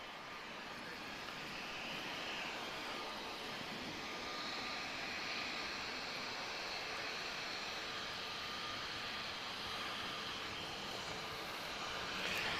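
Embraer E190 airliner arriving at Lisbon Airport over Campo Grande, a faint, steady distant jet engine rumble and hiss that swells slightly near the end.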